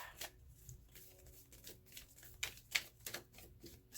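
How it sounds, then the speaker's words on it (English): Tarot cards being shuffled and pulled by hand, a run of quick papery riffles and soft slaps close by, a few bursts spaced irregularly with quiet gaps between. "Let's pull some clarifying cards."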